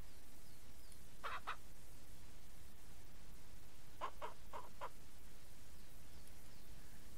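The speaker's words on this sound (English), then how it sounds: "Don't need two roosters." A rooster crows on a ranch in the Ranch Simulator video game: one short call comes early, then a run of four quick calls follows a few seconds later. Both are fairly clear over a steady hiss, and no one speaks.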